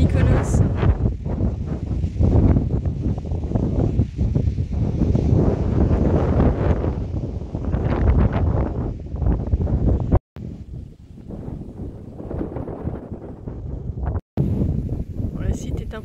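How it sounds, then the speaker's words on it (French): Strong wind gusting across the exposed hilltop site of the temple of Poseidon on the Greek island of Tinos, buffeting the microphone in loud continuous roaring bursts, with two brief dropouts near the end. "Tinos est réputé pour être l'île du vent avec Mykonos."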